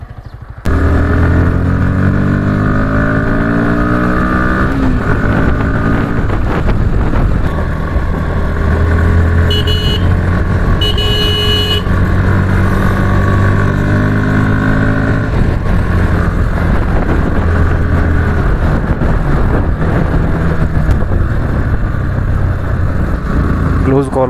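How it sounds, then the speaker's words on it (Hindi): A Bajaj NS160 motorcycle engine drones steadily while riding on the road, a loud continuous hum with shifting pitch and a few revs, with a rider talking over it and wind noise throughout. "यहाँ से मैं चलाता हूँ बंदे की बाइक"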